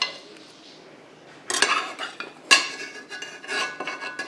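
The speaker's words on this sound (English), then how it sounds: "I really can just put the pans on the counter and not worry about damaging it" Stainless steel pans are set down on a kitchen counter in a few sharp metallic clanks and clatters, after a quiet opening with no talk.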